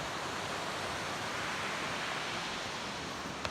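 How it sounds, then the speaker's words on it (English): River water rushing in a natural outdoor setting, a steady broadband hiss of flowing water heard from nearby, unbroken throughout. "Getting closer and closer to that river."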